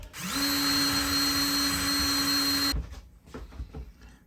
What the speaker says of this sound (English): And so I will go ahead and clean it on the brush.